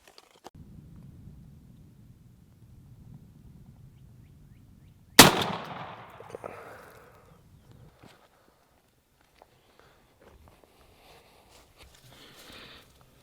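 A single sharp report from a Winchester SX4 shotgun firing a Winchester Double X 3-inch 5-shot shell through an HS Strut Undertaker choke, fired outdoors and followed by a short decaying echo, with quiet rustling before and after.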